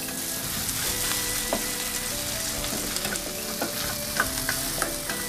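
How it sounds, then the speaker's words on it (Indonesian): Galangal and bird's eye chilies sautéing in oil, with a continuous close sizzle and a series of light tapping and scraping stirs against the pan. "lalu masukkan lengkuas dan cabai rawit."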